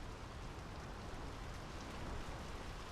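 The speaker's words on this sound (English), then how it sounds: "The rain's picking up." Rain falling in the video game Draugen, a steady dense hiss of downpour at low level, even and unbroken with no voices.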